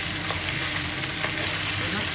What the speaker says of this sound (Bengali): এই দেখুন মাছটাকে এভাবে ভাজা হবে।